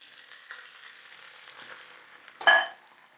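Sauce goes into a hot pan of marbled Japanese pork secreto cooking over high heat, giving a short, loud burst of sizzling after soft stirring and pan noise.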